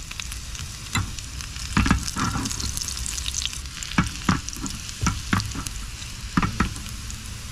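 Rice for Spam silog sizzles and crackles in a hot pan inside a car while a utensil scrapes and stirs in irregular bursts; a brief spoken word comes in once.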